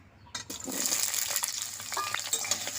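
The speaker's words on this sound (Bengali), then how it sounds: "কাঁচকলাটা খুব ভালো করে ভেজে নেব" Green banana pieces frying in hot oil in a pan while cooking shukto, a steady broadband sizzle swelling after a soft start, with a few stirring scrapes and clinks, no talk.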